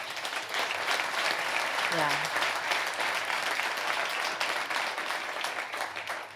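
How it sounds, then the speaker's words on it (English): A crowd at an opening session claps steadily to welcome first-time attendees, a sustained round of applause with a brief voice heard over it. "quick round of applause to welcome our newcomers"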